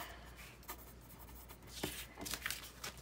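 Pen or marker writing on paper for a mixed media collage, producing faint scratchy strokes in short bursts against a quiet room.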